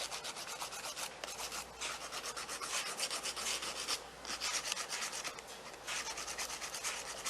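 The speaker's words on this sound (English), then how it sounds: "I'm filing to smooth everything out" A nail file rubs back and forth over purple dip powder nails in quick, even, close strokes, a soft continuous rasp with no talking.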